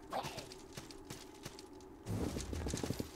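Hooves of a horse in the video game Salt & Sanctuary clip-clop in a steady rhythm, then a burst of heavier thumps and clatter takes over toward the end.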